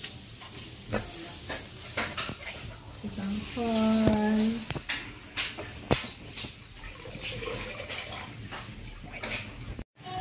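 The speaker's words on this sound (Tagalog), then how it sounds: "Halo-haloin po para mag-combine lahat yung inilagay sa kawat." Spatula stirring and mixing vegetables, garlic seasoning and sotanghon glass noodles in a wok, with scraping strokes and light sizzling under a person talking.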